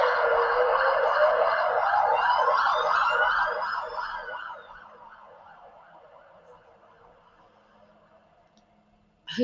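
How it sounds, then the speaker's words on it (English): A wailing emergency siren sweeps up and down loudly, then fades into the distance over city traffic rumble. "Hopefully you didn't hear those sirens too much. I did pause because of the sirens."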